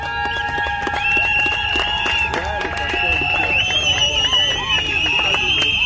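A crowd applauds at a civil wedding ceremony, with sustained dense clapping throughout, shrill high-pitched cries and whoops riding over it, and voices mixed in.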